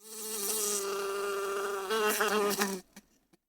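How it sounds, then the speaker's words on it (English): A bee buzzes steadily and close by in a garden for a few seconds, its hum wavering as it moves, then fades out with a couple of faint ticks. "It's a bee buzzing around the garden."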